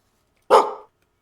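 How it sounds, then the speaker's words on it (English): A single sharp dog bark, close and fairly loud, against otherwise quiet surroundings. "who barked at me?"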